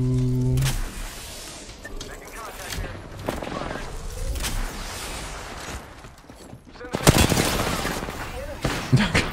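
Video game shootout with bursts of rapid gunfire at intervals, including a loud sustained volley near the end, alongside mechanical clicks and a player talking over the action.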